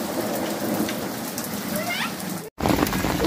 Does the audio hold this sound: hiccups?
no